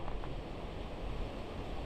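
Steady, heavy wind roars and buffets the microphone, a dense rumbling rush with no pauses, loud and close.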